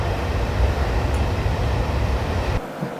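Electric locomotive in Train Simulator 2017, accelerating toward 60 mph on a VTEC Remembrance service, giving a steady, loud rumbling drone of wheels and motors that drops away sharply near the end.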